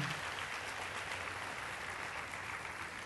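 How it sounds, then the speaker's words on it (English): A hall audience applauds as a guest is welcomed onto the stage, a continuous wash of clapping heard from some distance at a fairly soft, uniform level. "can we give a big round of applause?"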